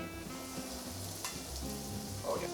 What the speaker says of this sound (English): We're gonna need some kind of vegetable, canola oil, one of those, because we're kind of frying this chicken.